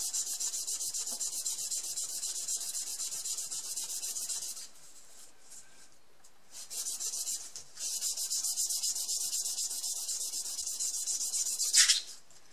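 Bone guitar saddle sanded on 600 grit sandpaper, a steady close hiss of rhythmic rubbing strokes with brief pauses midway and a sharper scrape near the end.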